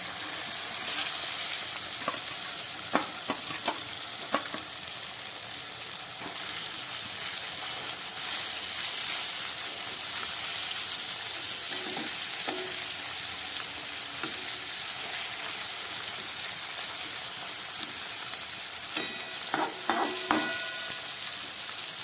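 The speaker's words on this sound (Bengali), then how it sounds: "এই মশলা মাখানো চুনো মাছটা এর মধ্যে দিয়ে দিচ্ছি।" Small fish coated in spices sizzle steadily in a hot pan with fried onion and tomato, a continuous close frying hiss with occasional stirring clicks and scrapes throughout.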